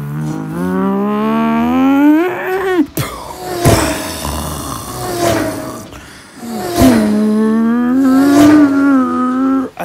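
A voice imitates car engines over Rocket League gameplay, with long revving hums that climb and fall in pitch, loud and close, broken by a brief pause before the mimicry resumes.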